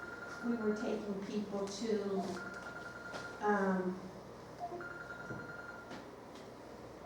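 A mobile phone rings during a city council meeting, its electronic ringtone repeating in several bursts while a person keeps talking over it.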